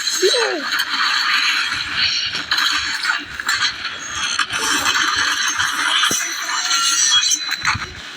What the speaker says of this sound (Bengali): এখানে অনেক লোকের মারছি আমি একসাথে মেশিন গান